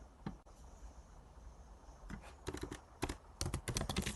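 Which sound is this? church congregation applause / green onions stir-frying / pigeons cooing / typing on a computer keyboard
typing on a computer keyboard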